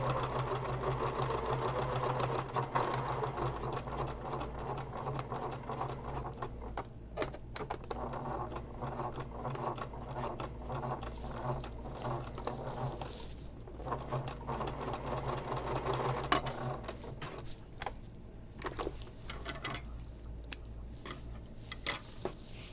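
A sewing machine stitches the corner of a messenger bag pocket in a long run of close, rapid mechanical chattering, with brief pauses and light handling clicks as the fabric is moved.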